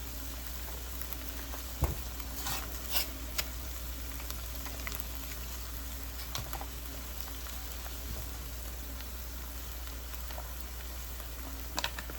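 Seasoned taco meat mixed with black beans sizzles steadily in a hot pan, with occasional scraping stirs and soft clicks of the utensil against the pan over a constant frying hiss; no voices.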